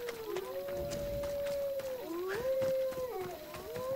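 Wolves howl at night in the ancient Greek world of Assassin's Creed Odyssey, long wavering howls rising and falling, several overlapping, over quiet game ambience without speech.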